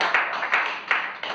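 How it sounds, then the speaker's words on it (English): A small group claps on a film set in short bursts, about four distinct clusters of claps, moderately close and fairly soft. "Clap for him."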